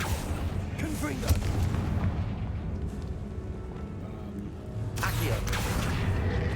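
Blasting-spell explosion in Hogwarts Legacy, a booming burst with a loud broadband crack near five seconds over a dense, rumbling game background.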